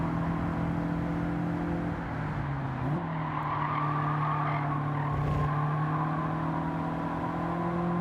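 A 1983 Toyota Corolla Levin AE86 races at Fuji Motor Speedway in Gran Turismo 7, its engine holding a steady, loud drone that briefly dips and shifts pitch before climbing again, with faint tire squeal mixed in.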